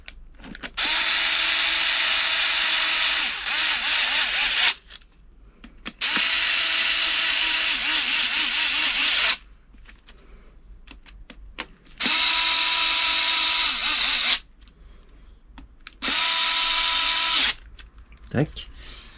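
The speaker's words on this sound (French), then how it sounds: "Et on peut finir de visser." A power drill drives screws on the wheel of a Kaabo Mantis GT electric scooter during a tyre change, whirring loudly in four sustained bursts of a few seconds each, separated by quiet pauses.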